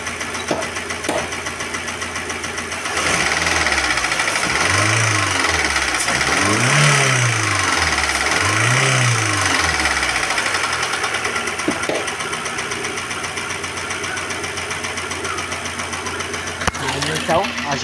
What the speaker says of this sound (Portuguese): Vamos dar uma aceleradinha lá pra gente ver o barulho.